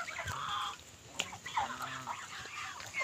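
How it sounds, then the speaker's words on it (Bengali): Domestic ducks calling in a farmyard: several nasal quacks and clucking sounds overlap at a moderate distance over a faint outdoor background, with no clear talk. "এগুলো সব হাঁস আমার"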